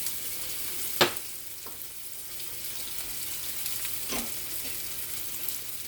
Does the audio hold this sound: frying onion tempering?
yes